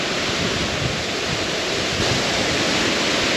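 The Bride's Veil waterfall roars as a dense, constant rush of falling water, loud and close, with no voices and some wind buffeting the microphone.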